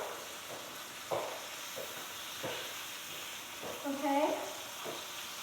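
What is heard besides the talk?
steak sizzling as it fries in pan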